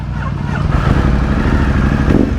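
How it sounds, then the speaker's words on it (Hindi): A warmed-up Ducati Multistrada motorcycle fitted with an aftermarket exhaust idles close by, with a low, uneven, throbbing engine rumble that stays steady and loud throughout, with no speech. "और मैं चला रहा हूँ जी Ducati की Multistrada"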